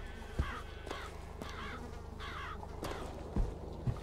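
Crows caw in BioShock Infinite, a series of harsh, evenly spaced calls over steady game ambience, with a few soft thumps in between.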